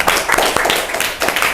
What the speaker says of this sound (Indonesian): Oke, tepuk tangan buat kelompok 3.